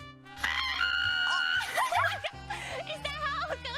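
A person imitates a screaming goat with high, strained, wavering vocal cries, loud and close, over a busy game soundtrack with laughter and other voices mixed in.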